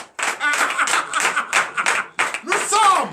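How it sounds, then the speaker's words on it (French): Church congregation at a night deliverance service in Comè, Benin, clapping in choppy bursts mixed with shouting voices, fairly close with short pauses between bursts. "Donnez l'acclamation à Jésus"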